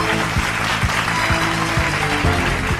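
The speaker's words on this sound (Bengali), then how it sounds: "আরে জোরে হাততালি" An audience at a live film award show applauds a winning actor, a steady, dense clapping that fills the hall, with a few low thumps breaking through.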